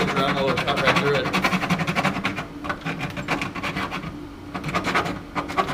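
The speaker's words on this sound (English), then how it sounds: "Get the Dremel and cut right through" A Dremel rotary tool cutting through a soft rubber tire plug, giving a loud grinding, rasping buzz that pulses unevenly in short bursts, with a few brief pauses.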